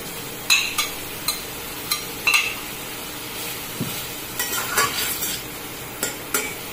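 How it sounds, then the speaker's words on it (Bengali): Pre-fried cauliflower being stirred into oily spices in a pan for phool kopir dom: a soft frying hiss beneath sharp, irregular clinks and scrapes of a metal spatula against the pan, close up, with no voices. "এই সময় আমি দিয়ে দিলাম আগে থেকে ভেজে রাখা ফুলকপিটা।"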